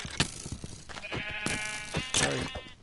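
A Minecraft sheep bleats a few times up close, wavering cries with short gaps and some soft clicks and thumps between them.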